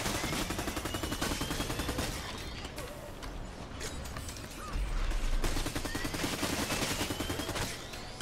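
Rapid automatic gunfire bursts from the futuristic shooter LawBreakers, dense and continuous over game sound effects and mechanical clatter, with a louder stretch near the end and no talking.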